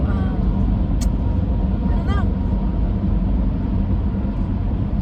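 An SUV rolls along the road with a steady, loud low rumble of engine and tire noise, unchanging throughout, with a couple of faint brief squeaks near the start.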